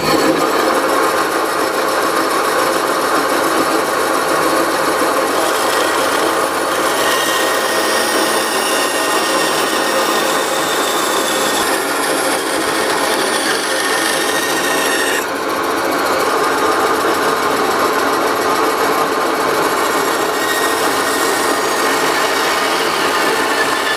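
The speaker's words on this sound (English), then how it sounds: "Okay, the bandsaw is finished cutting." A bandsaw with a worn bearing cuts steadily through the wooden handle of an old rusty framing hammer, a loud, continuous rasping whine that runs close and unbroken throughout.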